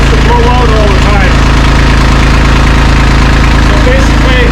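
Kubota LX2610 compact tractor engine idling after warm-up, a loud, close, steady diesel chug with an even rhythm that runs throughout, a voice faintly beneath it.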